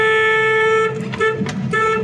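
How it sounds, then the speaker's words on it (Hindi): Car horn sounding before overtaking a vehicle on a road, a loud sustained tonal blast that breaks up briefly near the end, heard from inside the car over road noise. "अब मैं इसको हॉर्न दे रहा हूँ"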